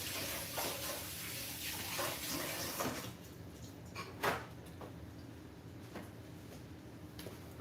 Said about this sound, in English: Let me wash my hands because I cannot do it like this